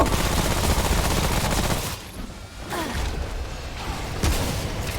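Gunfire in the video game Remnant: From the Ashes during a world boss fight against The Ent, with dense rapid bursts of shots, a brief lull, then more firing and an impact.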